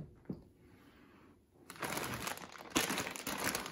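A plastic parts bag crinkles while a Team Losi 5ive B RC car kit is unboxed: a faint crackle and a single sharp tick, then louder, sustained crinkling and rustling close by with one brighter crackle partway through.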